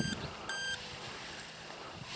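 An Amzdeal Smart Hunter metal detector beeping twice, short high electronic tones close by over steady outdoor hiss, with a thump at the end.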